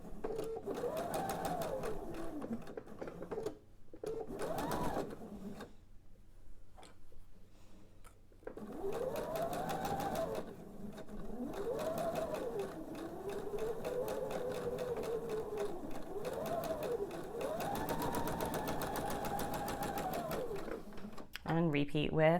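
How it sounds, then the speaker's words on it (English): A sewing machine stitches a quarter-inch seam on quilt triangle wedges, running steadily for long stretches with a couple of short pauses, close and prominent. "sew my 1/4 inch seam"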